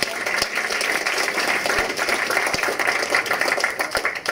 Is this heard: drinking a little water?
no